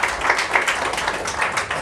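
A church congregation claps hands loudly, a run of quick, fairly even claps that keeps going throughout at close range, with no voices over it.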